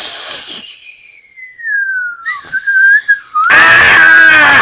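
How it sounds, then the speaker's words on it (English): A cartoon golden flute effect: a shrill whistled tone slides downward, wavers, then swells into a loud bright warbling blast, dramatic and exaggerated, with no voices over it. "Not the golden flute noise!"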